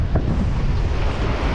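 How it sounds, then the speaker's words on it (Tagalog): Strong wind at sea on a fishing trip buffets the microphone in a steady, loud roar, with low rumbling gusts and no voices. "Medyo malakas na naman yung hangin"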